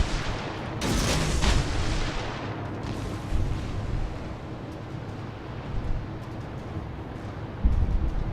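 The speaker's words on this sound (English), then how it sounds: "fire some more torpedoes in there" A World of Warships naval battle aboard the tier 4 Izyaslav, where a sharp launch burst near the start gives way to a steady low rumble and hiss of sea and engine, with a few dull thumps later on.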